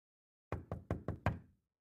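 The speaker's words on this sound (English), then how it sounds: "The wolf, a little out of breath from running, arrived at Grandma's and knocked lightly at the door." Five light, evenly spaced knocks rap on a wooden door, close and clear against silence.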